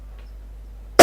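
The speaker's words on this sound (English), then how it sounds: "I'm coughing." A single loud, close cough bursts out at the very end after near silence, from a person on a Formula 1 podcast.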